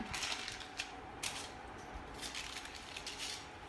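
Hair-coloring foil being folded up during a kids' hair dye job, giving quiet crinkling and crisp rustles with a few small sharp crackles, close and continuous.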